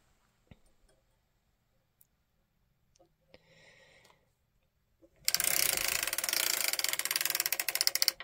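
Circular sock knitting machine cranked steadily with rapid ratcheting clicks from its gears, loud and continuous over the last three seconds after a few quieter mechanical clicks and a short rattle.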